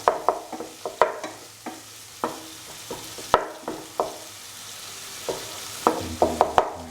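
Tomatoes being crushed and stirred into frying dal in a pan, a series of sharp scraping knocks and soft squelches at an irregular pace, close and fairly loud over a low sizzle, with no talk.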